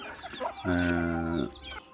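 A chicken lets out a drawn-out, harmonic cluck-squawk, with softer clucking before and after, close by.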